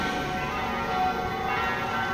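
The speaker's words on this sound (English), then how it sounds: "These are the midday bells of Medjugorje, of St. James Church, which you have in the back." Midday church bells of St. James Church in Medjugorje ring out steadily, a continuous resonant peal heard from a main street.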